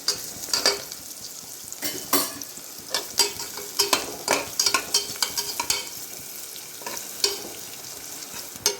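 Shallots frying in a pan while being stirred for Kerala-style kalathappam, a steady close sizzle broken by sharp scraping stirs and clinks at irregular intervals, with no talking.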